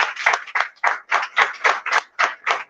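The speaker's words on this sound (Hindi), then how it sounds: "उसके लिए एक जोरदार तालियां धात के लिए होनी चाहिए।" An audience at an event on Uttarakhandi cuisine claps in a burst of loud, close, slightly uneven claps with no talking over them.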